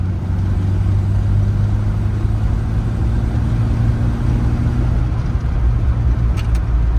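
A 1932 Chrysler CP8 rumble seat coupe engine runs steadily and close, its low mechanical drone rising a little as it accelerates, with a brief faint click near the end.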